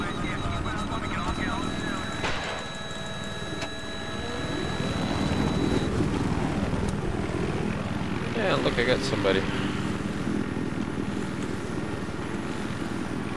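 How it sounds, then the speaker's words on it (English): A helicopter in the video game Little Bird gives a steady, loud rotor and engine drone throughout, with someone talking over it. "there's another helicopter taking off, as you can see by the cloud"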